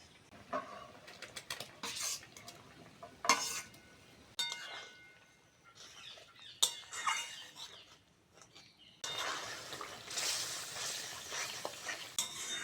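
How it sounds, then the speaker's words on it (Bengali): Fried potatoes going into a pan with mustard paste and being stirred, heard as close, uneven bursts of scraping and clinking with intermittent sizzle and brief pauses between strokes. "বেগুন ভাজা থেকে আলু ভাজাটা আলাদা করে নিলাম আলুটা আগে দিয়ে দেবো"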